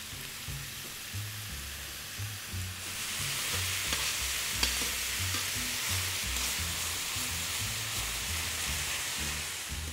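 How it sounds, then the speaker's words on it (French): Seasoned minced beef fries in a pan for a beef parmentier, a continuous dense sizzle that grows louder after a few seconds, with occasional stirring and no talking. "Pendant que notre viande est en train de cuire"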